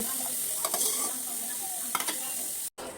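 Cauliflower pieces frying in oil for a mixed vegetable khichuri give a continuous bright sizzle, with a few scraping stirs of a spatula and a brief cutoff near the end.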